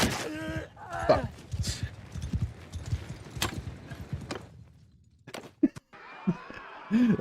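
Horse hooves clip-clop in a video game as the animal gallops off, a steady hoofbeat pattern running beneath ongoing talk and game noise, with a few sharp knocks near the end.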